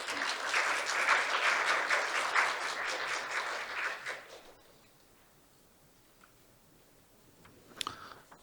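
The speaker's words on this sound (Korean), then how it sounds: "여러분 큰 박수로 청해 주시면 감사하겠습니다." An audience at an accounting standards forum claps in a sustained round that stops abruptly about halfway through, leaving quiet room tone with a few faint clicks.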